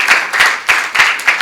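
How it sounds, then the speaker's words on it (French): Assembly at a scholarship award ceremony in Kinshasa clapping in unison, loud, close, rhythmic claps in about five even bursts. "Est-ce qu'on peut applaudir pour encourager"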